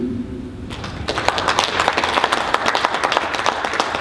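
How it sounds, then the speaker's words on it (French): Loud applause from a crowd breaks out after a brief murmur and continues with dense, steady clapping. "Et ça va être des applaudissements."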